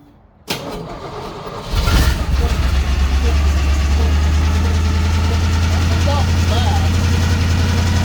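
A 1951 Willys M-38 jeep, raised on jacks, starts up after a sharp clunk and then runs steadily in gear with a deep, even engine drone, loud and close, while people talk over it.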